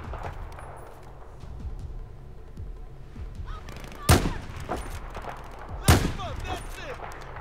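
Gunfire in the Battlefield 4 campaign: two loud, sharp shots stand out about two seconds apart above a low, busy battle background. A player talks quietly between the shots.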